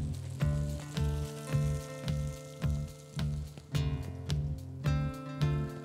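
Vegetables and fresh tarragon sizzle and fry in a wok, with a steady crackling hiss broken by regular rhythmic stirring or tossing scrapes about every half second to second, close and moderately loud.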